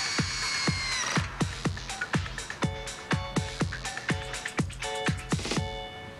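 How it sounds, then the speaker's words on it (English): Power drill driving screws from underneath into wooden table slats, with repeated short whirring bursts and ratcheting clicks in a fast, uneven rhythm, loud and close throughout. "I'll pre-drill and screw from underneath just as an extra precaution."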